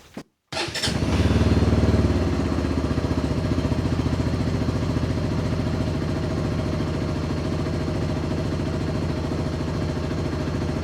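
A QJ SRT 125 DX motorcycle engine cranks and fires up, briefly revs, then settles into a steady, loud idle with a rhythmic chugging close by.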